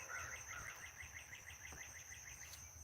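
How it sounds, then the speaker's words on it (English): Birds sing at sunrise in a quiet outdoor setting, with repeated bright chirps and trills over a steady insect-like buzz and a faint low rumble. "Listen to the birds."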